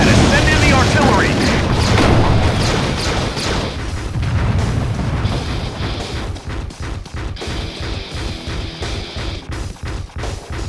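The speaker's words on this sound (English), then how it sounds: "Send in the artillery." Artillery fire in the Nintendo DS game Transformers: Decepticons, heavy booms and crashes at first, then a rapid, rhythmic series of sharp impacts, with a voice speaking over part of it.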